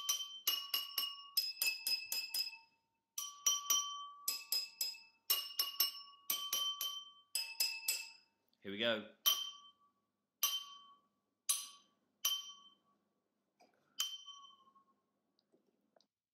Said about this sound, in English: you hit the glass and then you tip the glass and you can actually hear the change in pitch of the notes